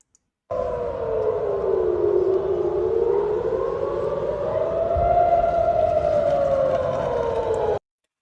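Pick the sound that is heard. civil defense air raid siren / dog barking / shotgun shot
civil defense air raid siren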